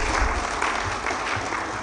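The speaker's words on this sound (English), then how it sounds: "Let us give him a round of applause again," Audience applause at an education consultation event, a steady dense wash of many hands clapping that runs the whole time without pause.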